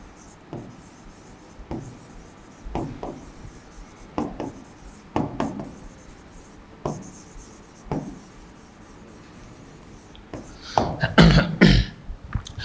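Chalk or a marker scratches across a board in short bursts of scraping strokes, close and moderately loud, during an English grammar class, with a few pauses and a clearer final flurry.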